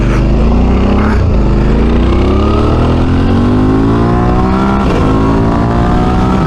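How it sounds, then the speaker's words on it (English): A motorcycle on a test ride after a headstock bearing adjustment, its engine droning loud and close as it revs up through rising pitch in steady pulls, with wind rush throughout. "There you go, out for a test ride and the bike's feeling good."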